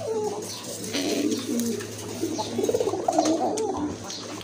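A pair of pigeons cooing close by in repeated soft, rolling calls, with faint rustling and background hum.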